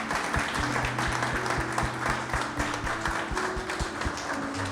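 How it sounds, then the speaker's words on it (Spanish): Church congregation at a Sunday service applauds a birthday celebrant, sustained clapping with sustained musical tones beneath it. "Vamos a dar un aplauso"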